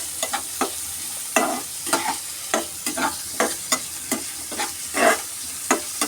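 Onions sautéing in a pan for chicken curry, with repeated spatula scrapes and stirring strokes in an uneven rhythm over a soft constant sizzle, close and clear, no voices.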